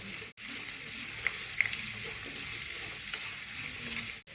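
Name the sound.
onion, garlic and spices frying in oil in a pan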